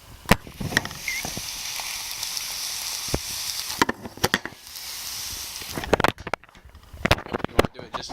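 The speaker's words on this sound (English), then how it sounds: "That's some good sizzle right there." An egg sandwich fries in a hot pan, giving a steady close sizzle with sharp clatters from utensils scraping and tapping. Someone speaks intermittently over it.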